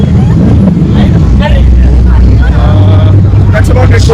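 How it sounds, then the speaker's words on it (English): A loud, throaty Aprilia superbike engine roars steadily at close range, its low rumble filling the clip with brief rises in pitch. "his insanely loud Aprilia Superbike"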